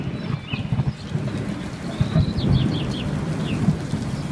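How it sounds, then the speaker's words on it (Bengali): Heavy rain falls steadily with a low rumble of thunder beneath it, a dense continuous wash of sound at moderate loudness, with no voices. "তার উপর আজ বৃষ্টি"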